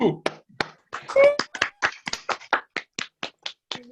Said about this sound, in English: That's like a golf clap.